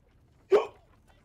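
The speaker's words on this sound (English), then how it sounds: "Fucking hiccups" A single short, sharp human hiccup, close and fairly loud, standing alone against near silence.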